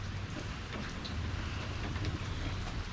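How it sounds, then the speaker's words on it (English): Steady rain falls on and around a back porch, a dense, even wash of patter with a low rumble underneath, continuous and close for the whole stretch with no voices. "it's raining and it's wet."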